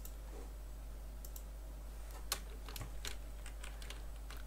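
Computer keyboard keys and mouse buttons clicking in scattered light taps during a Club Penguin game, quiet and close with a steady low hum underneath.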